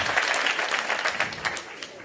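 An audience at a live comedy show breaks into dense, steady applause, many hands clapping together at close range for about two seconds with no speech over it.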